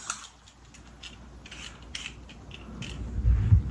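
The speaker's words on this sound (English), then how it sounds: "I went ahead and cleaned my sweet potatoes, and now I'm just peeling them" Raw sweet potatoes are peeled in quick, close scraping strokes, each a short rasp repeating at an uneven rhythm, ending with louder knocks and thumps.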